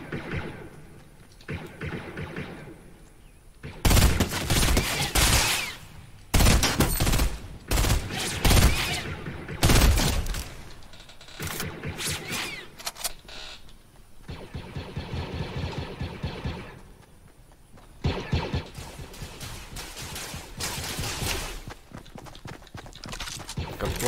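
Rapid blaster fire and shooting from a Star Wars video game, dense bursts of crackling shots in long, busy stretches with short quieter gaps, loud and continuous over a low background.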